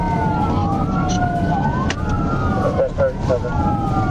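Police car sirens wailing during a high-speed pursuit, several overlapping rising and falling tones heard loud over road and engine noise.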